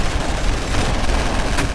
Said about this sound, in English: is quickly bombarded by a swarm of gunfire